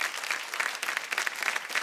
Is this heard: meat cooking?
no